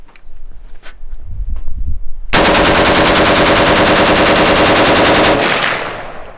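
A G36 rifle fires a sustained automatic burst of rapid, evenly spaced shots, loud and close, lasting about three seconds after a quieter stretch of faint movement and handling noise.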